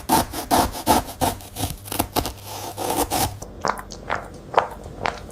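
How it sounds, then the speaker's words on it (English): A cat claws at a scratching post in quick, rhythmic rasping strokes, loud and close at first, then sparser and softer scratches toward the end. "He tracks who uses the scratching post."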